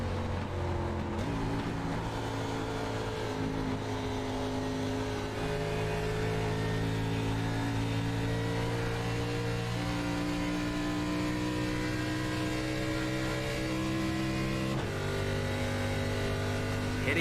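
A sim race car engine at Pocono drones steadily and loudly, its pitch stepping up and down as gears shift through the lap, continuous with no talk.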